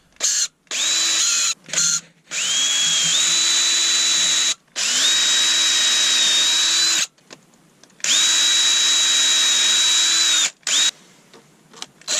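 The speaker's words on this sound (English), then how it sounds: "pre-drill your holes" A power drill whines in repeated bursts of a few seconds each while pre-drilling holes in wood for woodturning, pitch rising as it spins up, with short silent pauses between runs.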